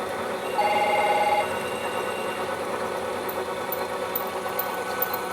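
A cell phone rings with a short, bright electronic tone that is one of many repeated incoming calls, rising over a steady mechanical hum and then fading back into it.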